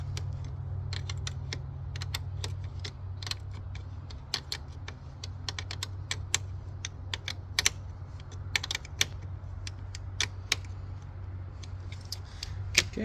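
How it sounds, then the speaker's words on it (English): A wrench works a 10mm battery terminal nut on a 2015 Honda CR-V, giving quick, irregular metallic ticks and clicks close by over a low steady engine-bay hum. "And I like to use a wrench on this, it's easier."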